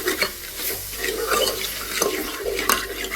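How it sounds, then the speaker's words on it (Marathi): A ladle stirs black mutton rassa with tomatoes, turmeric and salt in a pot, making close, irregular scraping clinks and wet stirring over a soft bubbling sizzle, with no voices. "आता आपण याला एवढं मिक्स करून आपली भाजी उकळून घेऊया"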